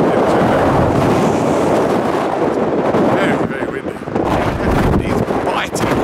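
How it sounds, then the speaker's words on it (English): Strong wind buffets the microphone with a loud, roaring rush that surges and dips, gusting continuously throughout. "very, very windy. Very, very windy."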